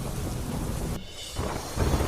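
Heavy downpour in Virupakshipuram, Tamil Nadu, pours as a dense, loud wash of rain with deep rumbles of thunder rolling through, briefly easing before the roar swells again; no voices.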